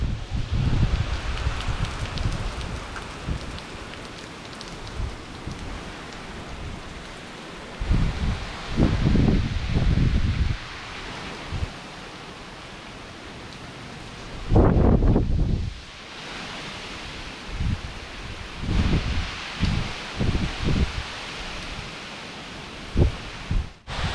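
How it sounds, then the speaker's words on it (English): Strong Hurricane Laura wind in Louisiana roars steadily throughout, with rough low-pitched gusts buffeting the microphone and swelling repeatedly to loud bursts. "The wind has picked up a little bit."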